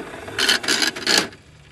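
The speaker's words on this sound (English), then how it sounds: "Want to try the slot machine again?" A salvaged slot machine is played, giving three quick mechanical whirring, ratcheting bursts close by, each lasting a fraction of a second, before settling to quiet.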